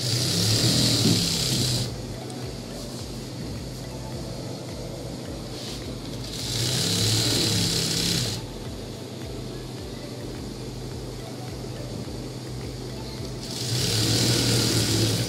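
A sewing machine stitches the side seam of a ladies' trouser in three bursts of steady, whirring, buzzing runs, with quieter pauses between them.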